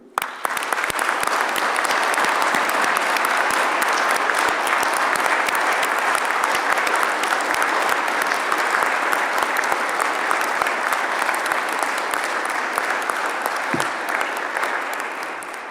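A council chamber audience at a municipal installation meeting in Bry-sur-Marne applauds the town's municipal staff, sustained dense clapping from many hands for about fifteen seconds before tapering off.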